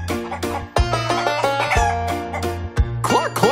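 A chicken clucks in a children's story song. Several loud, close clucks and squawks punctuate a steady musical backing.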